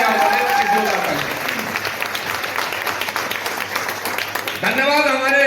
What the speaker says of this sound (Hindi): मिस्टर संजीव सर के लिए एक जोरदार तालियां होनी चाहिए